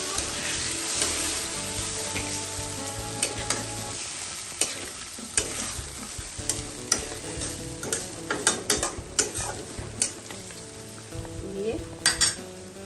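Water is added to oil-fried spice masala in a pan for a bhindi besan (okra and gram flour) curry, giving a constant sizzling hiss under repeated sharp scrapes and taps of a stirring spoon.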